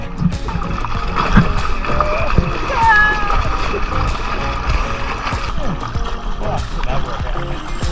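A paddle pulls a boat through water, giving steady splashing and swishing over a busy, continuous wash of outdoor noise, with muffled voices in the background.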